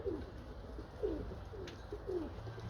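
Breeding pigeons coo inside a damp pigeon loft, three or four soft throaty coos spaced about a second apart over a constant low background rumble.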